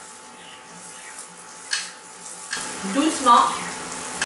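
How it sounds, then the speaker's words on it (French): Hot oil ladled over semolina sfenj doughnuts frying in a pan, giving a steady sizzle that swells louder midway with bubbling and gentle splashes, under a brief spoken word. "On jette de l'huile, donc on voit que ça gonfle un peu plus."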